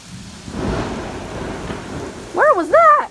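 Loud thunder and rain during a storm, a broad, steady roar of rainfall with a heavy rumble swelling across the clip, and a warbling, tonal sound near the end.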